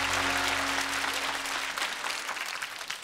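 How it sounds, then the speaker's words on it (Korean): A TV music show studio audience gives a warm round of applause after a duet, thick continuous clapping from many hands that is loud at first and then gradually thins out. "두 아티스트에게 박수 주십시오"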